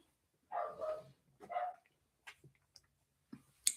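Two short, fairly loud barks from a dog indoors, followed by a few faint yips and clicks, with quiet pauses between.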